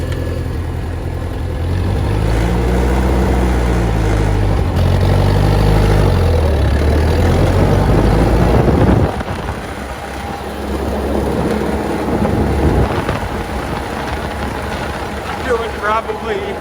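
A 70-year-old Massey Ferguson tractor idles steadily up close, a loud, constant low engine rumble that holds for the whole stretch, briefly dipping partway through.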